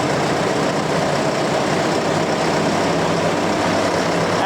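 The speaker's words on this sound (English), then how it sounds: "When the fan is set up in the turtle mode, you can only ramp up to 1200 RPM." A large ventilation fan on a ventilation vehicle (SVU) runs in turtle mode, capped at 1200 RPM, giving a loud, close, steady broadband roar with a low engine rumble that holds an even level throughout, with no voices.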